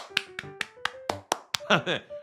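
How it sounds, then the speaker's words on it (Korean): A few people clapping after a Tottenham match, a sparse series of about eight separate claps spaced unevenly, close and distinct, mixed with vocal sounds and a short burst of laughter or exclamation. "박수 쳐."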